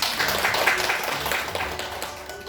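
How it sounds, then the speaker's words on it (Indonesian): Audience applause at a teacher dissemination event in an Indonesian school, a steady dense wash of clapping from a gathered crowd, moderately loud and continuous throughout with no talking over it. "Tepuk tangan."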